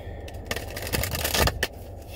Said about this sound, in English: Three shuffles. Shuffle them good.